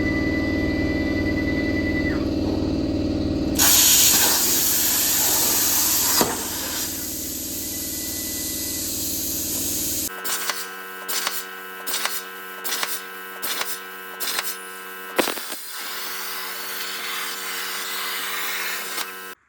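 Cutting a new dash panel for a homemade mini Jeep: a loud, steady spraying hiss of cutting runs for several seconds, then stops, followed by a series of short, regular bursts of lower humming noise.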